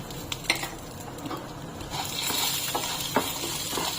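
Green chillies and garlic frying in a pan for spinach palak rice, a continuous close sizzle with scraping spoon stirs and light clinks against the metal pan, growing slightly louder midway, with no voices.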